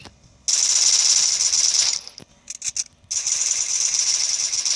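Rapid automatic gunfire in the battle-royale video game Free Fire, loud bursts that stop and restart with short scattered shots between them.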